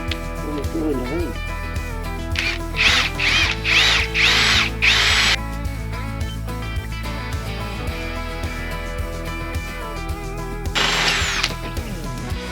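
A power drill whirs in several short bursts while framing a carport from logs and scrap materials, buzzing up and down in pitch, while people talk over and between the spurts.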